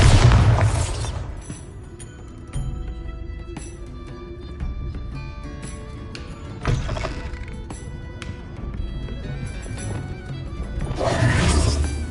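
The Bombardo spell in Hogwarts Legacy goes off as a heavy booming blast, then fades into scattered crashes and debris hits over game ambience, with another loud surge near the end.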